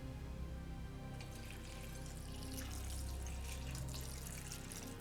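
Clear water running from a tap and poured over freshly picked red poppy petals in a pot to make plant ink, a steady close splashing flow that thickens partway through, with no talking.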